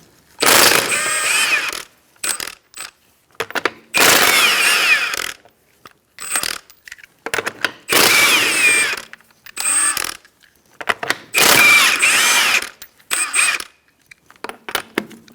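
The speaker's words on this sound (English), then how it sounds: "Using a 21mm socket, we're going to take off our lug nuts." Ratchet wrench with a 21mm socket loosening lug nuts on a 2004-2009 Mazda 3 front wheel: several loud, close bursts of rapid clicking, each a second or two long, separated by short pauses.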